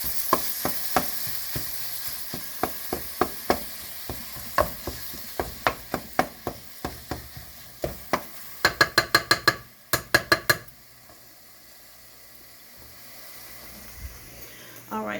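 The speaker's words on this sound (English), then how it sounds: "I'm going to add in my ground turkey. I'm going to start to saute that." Ground turkey sizzles and sputters in a hot pan on high heat as it is broken up, with a regular series of sharp spatula taps and scrapes that speed into a quick burst before settling into a steady low sizzle.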